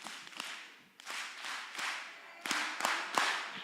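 An audience at a children's conference claps to welcome a speaker, in faint, somewhat distant bursts of applause with a few sharper individual claps standing out.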